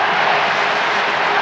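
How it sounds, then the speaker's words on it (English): Broad, roaring crowd cheering at a 2004 Leinster Gaelic football final between Laois and Westmeath, a continuous wash of noise filling a packed stadium, loud and sustained with no break. "And listen to the crowd."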